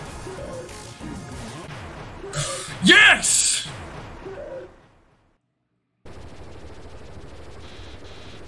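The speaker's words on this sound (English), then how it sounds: "Oh my god, it's a freaking machine gun." A video game machine gun rattles out a short, loud burst of rapid fire over excited talking, followed by a sudden drop to silence and then a steady low background hum.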